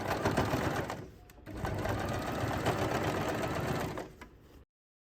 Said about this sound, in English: top stitch it 1/2 centimeter from the edge